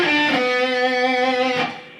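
Electric guitar shred lick played as one fast, sustained, distorted phrase with slides and pull-offs, bright harmonic tone held throughout and fading near the end, with no talking.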